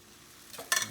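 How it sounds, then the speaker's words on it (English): A short burst of hissing sizzle as crepe batter hits a hot pan on medium heat, rising suddenly near the end after quiet background. "It should sizzle a little bit."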